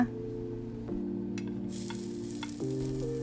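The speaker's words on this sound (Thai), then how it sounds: "เราจะเริ่มจากผัดซวงเจียให้หอมก่อนนะคะ" Sichuan peppercorns stir-fried in a pan for Kung pao chicken, a soft continuous sizzle with a few utensil scrapes and taps, heard close over a steady low hum.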